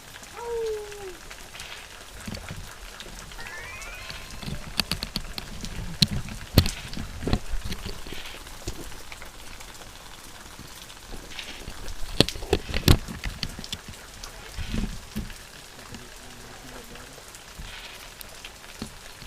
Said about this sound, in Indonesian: Nah seperti ini kalau hujan di Lebak Kidul atau Lebak Cideng.